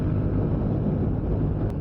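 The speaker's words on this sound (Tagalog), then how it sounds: "Lakas ng hangin." Strong wind buffets the microphone of a Yamaha Fazzio scooter while riding on a road near Pililla, a steady low roar filling the whole clip with no talk.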